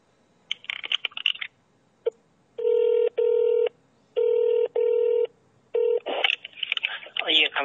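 Telephone tones sound during a call transfer: a few short clicks and beeps, then four evenly spaced electronic ring bursts, followed by a brief burst of noise as the line reconnects.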